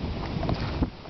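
Gusty wind buffeting an outdoor microphone on a cold January day, a steady close rumbling roar with brief louder puffs, no talk.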